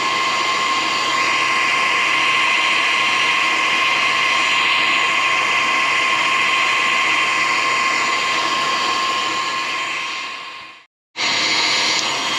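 A kitchen machine whirs steadily as it spins cream into homemade butter, a loud, even high-pitched motor drone that runs unbroken and stops briefly for a moment near the end before starting again.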